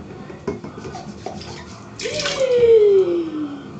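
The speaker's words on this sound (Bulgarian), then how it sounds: "Си налия малко вода." Water poured from a tap into a container, starting with a burst of splashing and settling into a rising, filling gurgle, preceded by a few small knocks and clinks.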